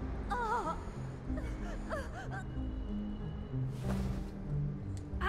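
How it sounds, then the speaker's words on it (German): A character in the video game Beyond Two Souls breathes heavily, gasping and whimpering in a run of strained breaths over a low background score. "Bitte, Tuesday, immer weiter atmen. Ein und aus. Ein und aus"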